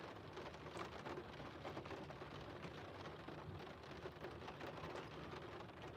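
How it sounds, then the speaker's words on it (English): Rain falling steadily outdoors makes an even, unbroken wash of hiss and light patter, quiet and far off for the whole stretch, with nobody speaking. "It's raining here."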